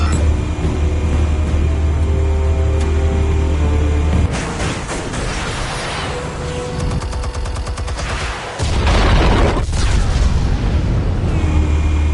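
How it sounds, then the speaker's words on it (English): Explosives detonate in the Batman: The Telltale Series video game, a loud dense barrage of booms and rapid crackling blasts over a continuous low rumble, surging again toward the end. "Explosives armed. Fire when ready."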